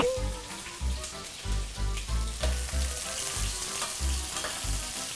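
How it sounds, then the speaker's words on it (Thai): Seafood stir-fries with curry powder, sizzling steadily in a hot pan while a utensil scrapes and stirs in a repeating rhythm, loud and close. "แน่นอนว่าต้องผัดให้สุกใสเนาะ"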